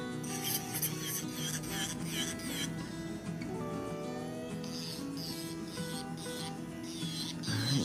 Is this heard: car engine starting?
no